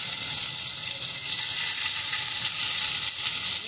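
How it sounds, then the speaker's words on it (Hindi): Pieces of steamed chicken tikka fry lightly in a little oil in a pan, giving a loud, even, continuous sizzle with faint stirring, and nobody speaks. "अब हमने इसको करना है हल्का सा फ्राई, फ्राई होके हल्का सा इसका कलर चेंज हो जाएगा"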